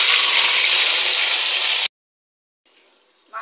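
Meat tipped into hot white oil with fenugreek seeds in a wok gives a loud, steady sizzling hiss that cuts off abruptly, followed by near silence and then a brief faint return of frying.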